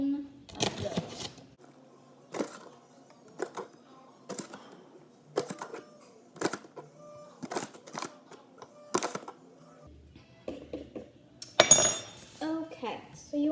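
A metal tablespoon scoops flour into a bowl for homemade pasta dough, giving a series of separate clinks and scrapes at a steady pace, with quiet talk in between.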